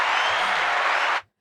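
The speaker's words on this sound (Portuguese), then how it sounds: "Aplauso para Bomes." An audience applauds a guest on a talk show with a dense, even burst of clapping that holds steady and then cuts off abruptly.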